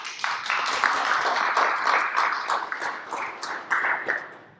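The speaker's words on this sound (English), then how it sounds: "We have one more round of applause for our speaker." An audience claps after a lecture on the contraceptive pill, a moderate, steady patter of many hands heard from within the room with no voices.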